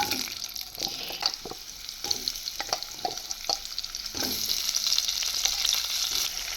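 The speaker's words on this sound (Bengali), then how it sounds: "এই তেলের মধ্যেই আমি এখন আলুটা ভেজে নেব।" Potatoes frying in hot oil that was just used for frying pabda fish, giving a steady close sizzle with intermittent stirring scrapes and clicks throughout, no talking.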